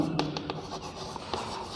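Pen or chalk writing notes during a Class 10 science lesson on urine formation, a few short scratchy strokes over faint room noise, no talking.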